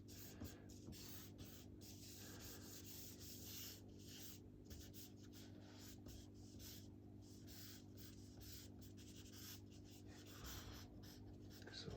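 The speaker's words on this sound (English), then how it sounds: "So I'm just right now sketching in some lines to help sell the form." Pencil sketching lines on a drawing, a steady run of soft scratchy strokes repeating rapidly and close up over a constant low hum.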